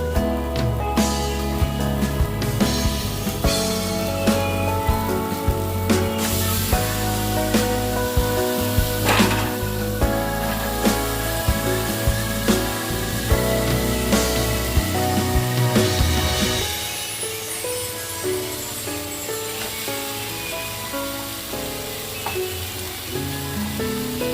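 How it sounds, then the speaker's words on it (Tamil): Steady loud sizzling of chicken frying in a pan for a South Indian chicken curry, set against continuous background music that drops out partway through, leaving the frying hiss alone. "நல்லா வதங்குது சிக்கன் போட்டுடலாம்"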